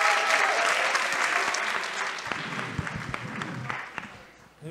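An audience claps at an evening lecture on living through the war in Ukraine. The applause is dense and steady at first, then thins into scattered claps and fades out.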